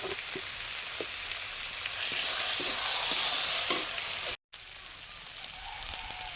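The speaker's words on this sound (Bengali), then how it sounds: "হলুদ গুঁড়ো, লঙ্কা গুঁড়ো, জল দিয়ে মশলাটা কষবো" Masala of turmeric and chili powder with water frying and being stirred in a pan, a steady close sizzle with scraping stir strokes, a brief dropout near the end, no talk.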